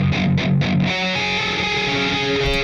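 A heavily distorted, high-gain djent electric guitar tone through Bias Amp 2: tight palm-muted chugs open the passage, then a sustained ringing chord holds loud and alone.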